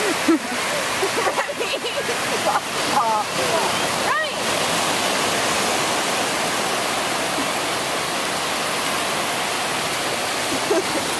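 Loud, continuous rushing of ocean surf at a beach crashes and hisses throughout, with a few brief voices over it near the start.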